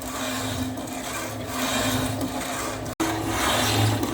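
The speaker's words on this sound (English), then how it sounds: "Got the old Casto running in the background, just cutting some feet for the surface grinder." An old Casto bandsaw running at slow speed while cutting feet for a surface grinder: a steady, continuous mechanical whir and rasp with a low hum, mid-distance, uninterrupted apart from a brief dropout near the end.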